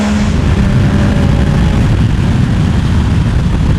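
A 2026 Yamaha MT-09 motorcycle's engine and exhaust roar, a deep, throaty, steady drone, loud and close throughout with no letup.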